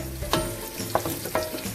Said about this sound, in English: We've let it sizzle a little bit